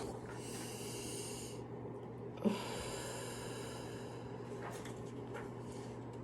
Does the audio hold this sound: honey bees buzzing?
no